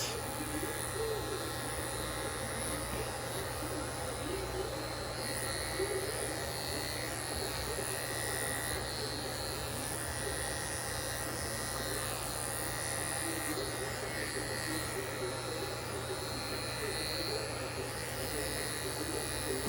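Electric clippers hum steadily at low level while grooming a poodle's face, a continuous buzzing drone throughout with no breaks.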